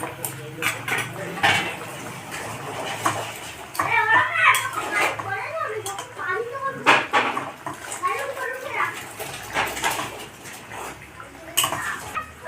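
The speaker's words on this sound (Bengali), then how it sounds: "এবার ভেজে রাখা মাছগুলোকে দিয়ে ঝোলের মধ্যে দিয়ে দেবো।" Fried katla fish pieces go into a sour gravy in a pot, with clinking of a utensil against metal and soft sizzling and bubbling, under someone talking intermittently.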